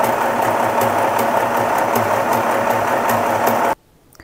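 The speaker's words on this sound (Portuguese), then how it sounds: "Eu vou colocar no ponto 11 da máquina, que é um zigue-zaguezinho bem pequenininho." Sewing machine running a small zigzag stitch on tricoline fabric, a loud, steady, rapid mechanical whir with regular clicking pulses that stops abruptly near the end, leaving near silence.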